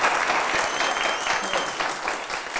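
Audience applause at a game show, a dense, steady burst of clapping from a crowd, loud and sustained throughout.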